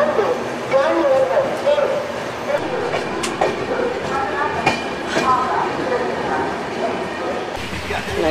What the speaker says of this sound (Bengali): ট্রেনটা ছেড়ে দিল আসানসোল জংশন